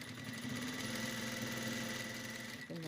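A sewing machine runs steadily, stitching a fabric seam with a 1 cm seam allowance set against the presser foot. It hums continuously at close range for a few seconds, and its pitch shifts slightly near the end.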